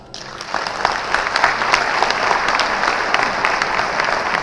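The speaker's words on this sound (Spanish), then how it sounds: "ponle el aplauso" Audience applause fills an award ceremony hall, a dense, steady wash of many hands clapping that swells after a quiet start and carries on evenly throughout.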